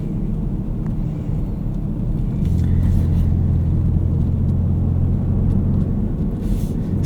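A 2024 Ford Ranger Raptor on Firestone Destination M/T mud-terrain tires drives through snow, giving a steady, close, low engine and tire rumble that swells slightly partway through and holds with no one speaking.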